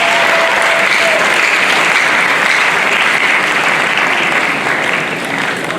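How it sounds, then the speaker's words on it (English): An audience at a graduation ceremony applauds the graduates: sustained, loud, dense clapping from a large crowd, continuous and even before easing slightly at the end. "I thought you would applaud them."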